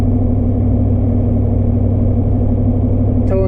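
Pickup truck engine towing an empty trailer, a loud, steady low rumble heard from inside the cab, continuous and unchanging, with a brief chirp near the end.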